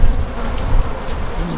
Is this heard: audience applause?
no